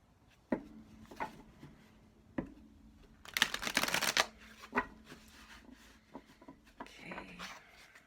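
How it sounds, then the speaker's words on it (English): A deck of cards is shuffled in a few soft, quick riffles and taps, with one longer, louder burst of shuffling near the middle, close and quiet with no talking. "And then one more shuffle."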